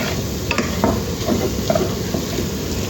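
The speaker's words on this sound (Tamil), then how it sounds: "நல்லா கிண்டி விடுவோம்" Potato poriyal being stirred in a pan, with a steady low sizzle and repeated spoon scrapes and clinks spread through the clip. No voices are present.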